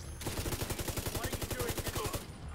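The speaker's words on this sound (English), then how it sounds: "I'm shooting you!" Rapid automatic gunfire in the shooter game The Division 2: a single sustained burst of about twenty evenly spaced, punchy shots, loud and close, cutting off abruptly.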